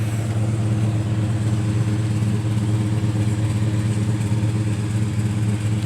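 A car powered by an Oldsmobile 307 V8 cruises along, its engine giving a steady, low, even drone with constant road rumble throughout, close and fairly loud, with no voices.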